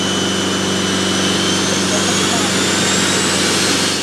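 Aircraft in flight toward Everest in Nepal, a loud continuous engine roar with a steady rotor-like pulse, heard from inside the cabin with voices under the noise.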